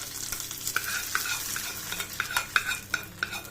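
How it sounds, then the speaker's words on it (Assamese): Chutney mixture stirred in a pan with the gas flame switched off, giving a soft scraping and light sizzle with repeated sharp spoon clinks against the pan, close and steady with no talking. "দি গোটেইখিনি ভালদৰে লৰাই দিছোঁ"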